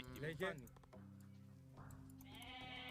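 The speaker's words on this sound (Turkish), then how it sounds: "Şurada da bayağı bir keçi var." Bleating goats in the game Age of Mythology, a couple of sharp cries at the start, then steady synthetic tones and ambience underneath, with faint voices.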